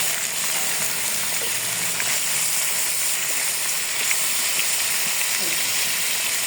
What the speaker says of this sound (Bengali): মাংসটা এটা আমি তেলে দিয়ে ভেজে নেবো